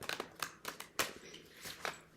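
Tarot cards being shuffled by hand, a run of soft papery riffles and slaps at close range, irregular bursts with brief pauses between them.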